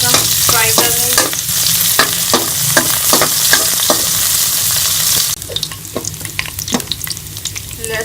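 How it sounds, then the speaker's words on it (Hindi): Finely chopped garlic frying in a couple of spoons of oil for a Pakistani chicken spaghetti, a steady close sizzle broken by repeated scraping stirs, softening slightly partway through. "इसके अंदर हम ये लहसुन डाल देंगे बारीक कटा हुआ। इसको हम हल्का सा फ्राई कर लेंगे।"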